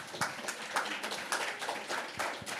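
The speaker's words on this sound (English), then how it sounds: "Can we please have a round of applause for these people over here we have?" Conference audience at App Growth Summit Berlin applauding panelists, a steady, moderately distant round of clapping with distinct claps throughout and little talk.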